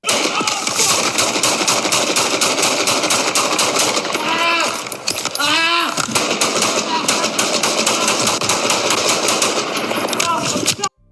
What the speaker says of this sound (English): you're gonna hear the barrage of shots, the break, and then a whole bunch more shots